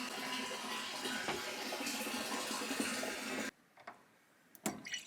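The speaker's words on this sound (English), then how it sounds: "So water comes out, water goes in there through this hose" Steady rush of water pouring through a hose into a barrel inside a tent, a continuous hiss that stops abruptly partway, followed by a few faint drips and knocks.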